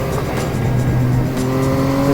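Car on a winding mountain road near Côte d'Ampus, engine pulling hard and shifting gears, loud continuous revving with rising pitch after each shift, no talk.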